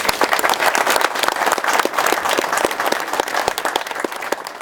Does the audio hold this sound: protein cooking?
no